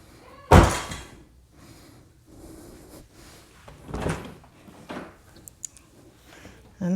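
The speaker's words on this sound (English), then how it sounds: "we're going to test it out by closing and reopening the door." A Tesla car door slams shut with a loud, close thunk, then a second softer door thump follows a few seconds later as it is closed and reopened, with faint handling noises between.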